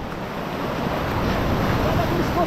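Ocean waves break on a desert Moroccan shore at a fishing spot, a steady roaring wash of surf mixed with wind buffeting the microphone; faint voices sit low beneath it.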